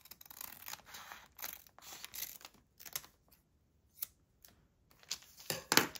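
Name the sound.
scissors cutting paper for a junk journal pocket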